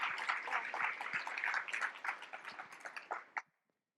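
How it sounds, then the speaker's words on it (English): An audience claps together at a talk on Kentucky's medical program, a dense steady patter of many hands that fades and thins out in the last second before stopping, with no talking over it. "give a big round of applause to Cannon and to him"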